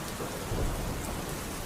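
Rain and thunder effect for a Bengali audio drama, a steady loud wash of rainfall with a low rumble of thunder throughout, ending with a short louder burst, no voices.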